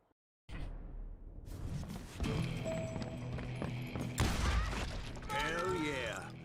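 Mechanical clicks and clacks of a double-barreled scatter gun being reloaded in Call of Juarez Gunslinger, sharp metallic ratcheting with a swishing movement, arriving in quick bursts after a brief silence.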